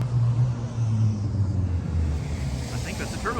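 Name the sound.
turbocharged Mazda Miata car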